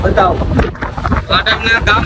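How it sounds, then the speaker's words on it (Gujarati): Hot desert wind in Rajasthan buffets the microphone with a loud, continuous roaring rumble and gusty swells, and a voice is partly audible beneath it. "અહીંયા પવન પણ બહુ ગરમ ગરમ આવે છે"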